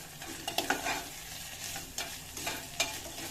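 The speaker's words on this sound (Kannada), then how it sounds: "ಈಗ ಬೀನ್ಸ್ ಹಾಕೋತೀನಿ, ಹಸಿಮೆಣಸಿನ್ಕಾಯಿ, ಎಲ್ಲ ವೆಜಿಟೇಬಲ್ ಹಾಕ್ಕೊಳ್ಳಿ." Beans, green chilies, carrot and other vegetables fry in a pan while a utensil stirs them, giving a continuous sizzle broken by several scraping clinks of the spoon against the pan.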